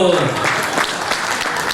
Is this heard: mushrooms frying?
no